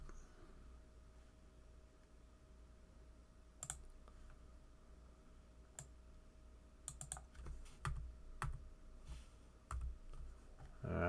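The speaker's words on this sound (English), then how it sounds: "Every time I click there, we're losing it." Computer mouse clicking at a desk: scattered sharp clicks, single and in quick bursts, close and fairly quiet over a low steady hum, with no talking.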